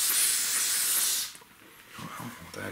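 Brake cleaner aerosol sprays onto Toyota Avalon front brake parts in a loud, close hiss that lasts just over a second and cuts off, followed by faint handling noises.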